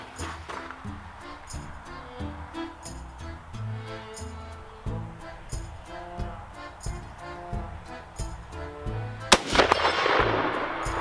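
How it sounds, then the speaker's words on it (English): An offhand rifle shot from a Mosin-Nagant 91/30 military surplus rifle gives one sharp, loud report near the end with a brief echoing tail. Rhythmic background music plays beneath and before it. "Let's do an offhand shot with it."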